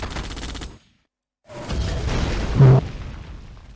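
Cannon fire in the Yuri's Revenge real-time strategy game: a loud booming burst, a brief silence, then a longer rumbling barrage with a sharp blast near the end.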